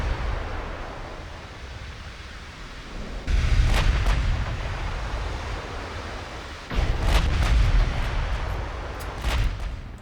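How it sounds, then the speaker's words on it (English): Warship guns fire in the naval battle game Ultimate Admiral Dreadnoughts, with two heavy booming salvos a few seconds apart followed by rolling rumble and sharp cracks over a low sea-like wash. "Want to get all our guns firing if we can."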